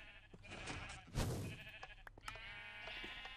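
A single sheep bleat from Minecraft stands out clearly over a busy game soundscape of faint clicks and tones, with no speech.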